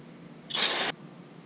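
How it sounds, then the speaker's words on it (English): Brake cleaner sprayed onto a bolt during a 2009-2014 Ford F150 4x4 transfer case fluid change, a single short close hiss of about half a second that starts and stops sharply. "just clean it off with a bit of brake cleaner"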